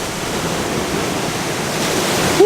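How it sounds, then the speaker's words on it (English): A big ocean wave surges and crashes on a windy shore, a loud, steady broadband roar of surf that builds slightly toward the end. "Oh, here comes a big wave."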